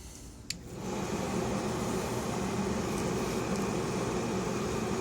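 A Traeger pellet smoker's auger motor and induction fan hum steadily and close up after a brief click, with continuous broadband fan whir filling the whole span.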